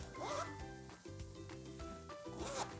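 A zipper on the pocket of a Hobonichi planner cover is pulled in several short rasping strokes, quiet and close, with soft rubbing between them.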